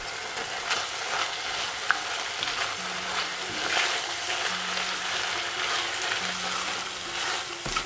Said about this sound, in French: Ajoutez dans la casserole et faites revenir avec les oignons.